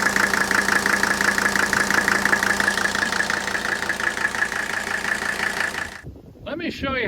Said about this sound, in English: That's the sound of a very healthy ignition fire knock sound that these OM617 turbo diesels produce when they're healthy.